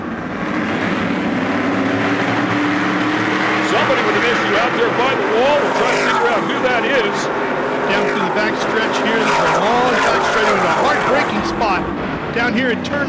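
Race trucks roar around the Long Beach street circuit, with a dense, continuous engine drone and shifting revs heard at a distance under steady commentary.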